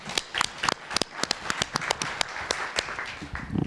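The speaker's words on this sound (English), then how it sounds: "You deserve a round of applause." A small group claps at a public legislative listening session, scattered sharp hand claps at an uneven pace with no cheering, fairly close and lively.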